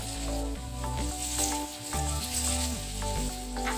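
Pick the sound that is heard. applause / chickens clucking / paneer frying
paneer frying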